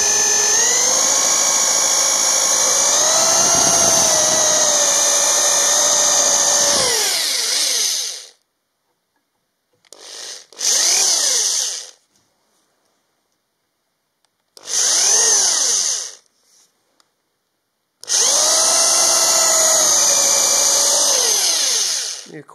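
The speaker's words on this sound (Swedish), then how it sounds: "Och sen så får man börja borra lite försiktigt så här." A power drill whines steadily for several seconds, stops, then runs again in three more short and long bursts separated by silence, drilling carefully while making a simple carving knife.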